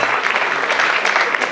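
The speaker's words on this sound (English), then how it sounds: "Round of applause, please, for Tanzil Bakari." Dense audience applause greets charity partner Tanzil Bakari at a stand-up comedy show, a brief burst of loud, close clapping with no speech.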